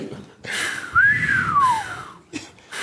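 A voice imitates a breathy, wavering whistle, a single tone that rises then slides down, with short breathy bursts before and after.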